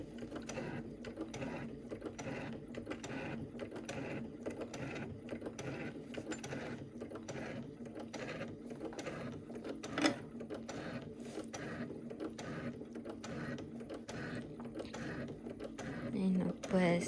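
Sewing machine stitching a seam with a half-inch allowance on a cosmetic bag, a steady mechanical whir with a ratcheting rhythm running throughout, with someone speaking over it.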